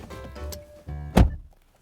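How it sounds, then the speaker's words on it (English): The driver's door of an Audi A6 swings shut with a deep, bassy thunk, a single solid close following a brief rustle of movement near the car. "listen to the thunk of the door"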